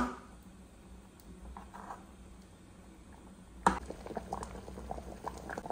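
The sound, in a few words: curry boiling in a pot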